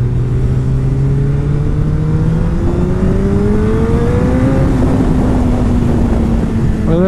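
A Masai pitbike-style 50cc moped revs hard as it passes close by, its engine note rising then dropping in pitch, loud and continuous over road noise.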